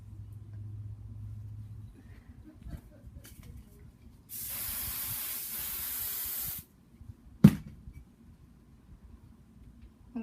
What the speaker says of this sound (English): going to spray down my thing,